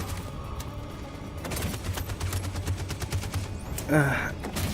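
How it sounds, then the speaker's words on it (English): Rapid gunfire bursts crackle through a battle in Detroit: Become Human during a revolution finale, dense overlapping shots with a thump near the end, while a voice speaks over the fighting. "And covering fire."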